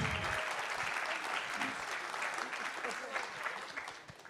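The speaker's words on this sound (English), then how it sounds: "Let's give them a round of applause." Audience applause at a community week gathering, steady dense clapping filling the room for a few seconds with no voices over it.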